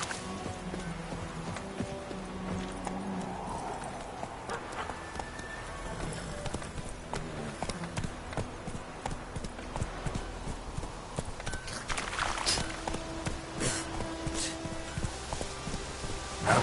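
Galloping hoofbeats from Roach, the horse in The Witcher 3, a fast, even clip-clop rhythm that runs close and steady throughout, with a brief snort or whinny near the end and no talking.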